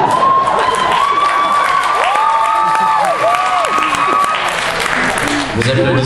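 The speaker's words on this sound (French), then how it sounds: "Vous applaudissez de bon cœur." Audience applause and cheering at a stand-up comedy show, a loud dense ovation rolling on steadily with sustained musical tones and some shouting mixed in.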